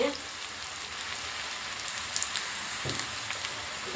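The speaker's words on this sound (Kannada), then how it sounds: "ಇದನ್ನು ಫ್ರೈ ಮಾಡ್ಕೊಳ್ಳೋಣ" Cumin seeds and dried red chilies fry in oil with a steady, fine crackling sizzle, close and moderately loud, with occasional sharper pops and a brief clatter near the end.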